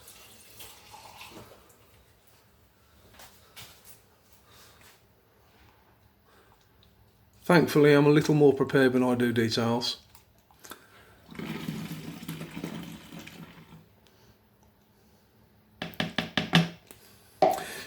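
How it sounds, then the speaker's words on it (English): Warm water running from a tap into a container for a foam cannon soap mix, a loud splashing pour in a few short bursts with quieter handling noises between, and someone speaking briefly. "let's just add a little drop more warm water"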